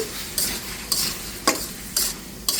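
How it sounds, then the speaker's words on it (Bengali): A tomato and spice masala being stirred in a pan for a sea-fish curry, with five distinct scraping strokes at roughly half-second intervals over a low, steady sizzle, close and fairly loud. "আর এখন আমি একটু নেড়ে ছেড়ে দিচ্ছি"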